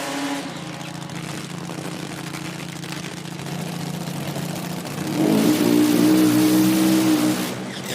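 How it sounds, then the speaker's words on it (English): A supercharged V-twin drag racing motorcycle at an IHRA drag meet rumbles steadily, then launches with a sudden louder, harder engine roar that holds for several seconds. "A little different sound in that right-hand lane. That's a V-twin supercharged."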